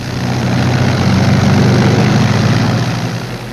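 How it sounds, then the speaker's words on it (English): Propeller-driven P-38 and Mustang fighter aircraft of the Second World War get underway with a loud, steady engine roar that swells and then eases slightly over a few seconds. "the P-38s get underway"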